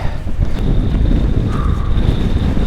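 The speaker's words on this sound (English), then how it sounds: "Oh, the wind's picking up." Wind gusts at a mountain summit, buffeting hard against the microphone as a loud, continuous low roar with a few brief whistling tones.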